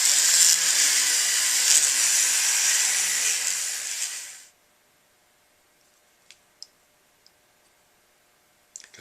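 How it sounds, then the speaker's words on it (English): A rotary tool spinning a sanding drum inside the shank of a brass mouthpiece, a steady high whirring grind for about four and a half seconds before cutting off, followed by a few faint clicks. "I may start out with a rotary burr if it's brass or something harder,"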